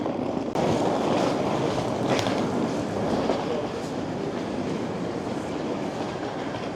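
Rail traffic at Paris Gare de Lyon station fills the space with a broad, steady rumble and faint rolling clatter from trains. The sound stays even and continuous, with occasional light clanks in the busy hall.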